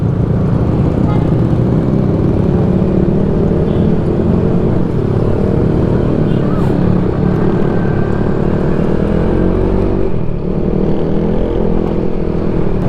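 A motorcycle that has not been remapped and is prone to backfiring weaves through heavy traffic in Tisa, Cebu, its engine and road noise running loud and steady throughout with no break.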